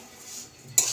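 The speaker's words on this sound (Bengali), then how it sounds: "তার সাথে আমার সুজিটাও ভাজা ভাজা হচ্ছে" Semolina for suji badam halwa is frying in a pan. A quiet low hiss is broken near the end by a sudden close scrape of a spoon stirring the grains.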